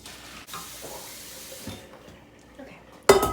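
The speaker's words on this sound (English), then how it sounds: "I'm just going to go ahead and pour this water out." Water poured out of a cooking pot into a sink in a home kitchen while making Instant Pot barbecue chicken, a steady moderate splashing stream running close by, ending in a sudden louder gush.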